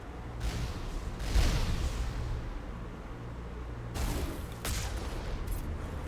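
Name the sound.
rocket fire from video game Mass Effect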